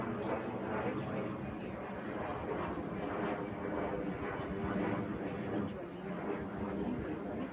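Airplane passing overhead during an outdoor service dog field demonstration, a steady broad rumbling roar that holds loud and continuous throughout with no clear rise or fade.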